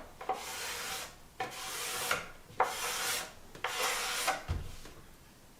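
Four drawn strokes of a hand tool shaving a white oak plaque close by, each a dry rasping swish with a bit of chatter, evenly spaced and fairly soft, with a few brief spoken words.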